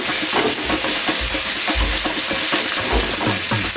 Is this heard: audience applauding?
no